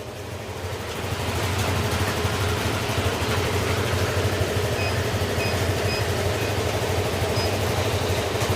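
A motorcycle engine runs steadily during diagnosis after its chassis was reassembled, following a valve seal and piston ring repair. It starts quieter, then settles into a loud, constant idle drone with no break.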